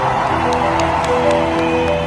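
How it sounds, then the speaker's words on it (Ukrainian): Crowds cheering and applauding Ukraine in main city squares abroad, a dense, lively roar of many voices with scattered clapping, close and loud throughout. "українцям аплодують"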